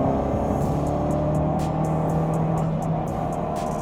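A Ford Focus RS engine pulls after a downshift, a loud, steady drone heard from inside the car, with a faint rise in pitch.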